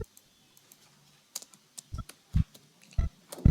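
Keys clatter on a computer keyboard while code for an HTML image tag is entered, a handful of sharp, irregular taps that grow more distinct toward the end, close and fairly quiet against a silent room.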